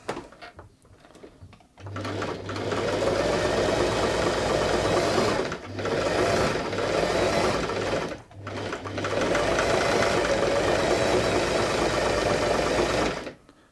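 An Australian Singer 328P sewing machine runs and stitches fabric in three long bursts of steady, even mechanical whirring and clatter, separated by short pauses, close and alone with no talking.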